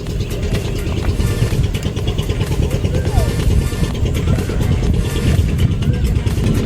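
A boat engine drones steadily on the Mahananda River at evening, a loud continuous mid-pitched rumble heard from a moving riverbank position, with someone talking over it.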